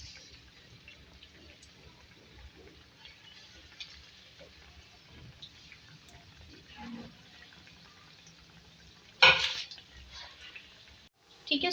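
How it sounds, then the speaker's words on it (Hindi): Semolina gulab jamun fry in ghee with a faint, steady sizzle and hiss, broken by one louder spattering burst. "इसको मैंने सारे बना लिए, इसको फ्राई करेंगे।"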